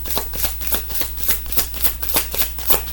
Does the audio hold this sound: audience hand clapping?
no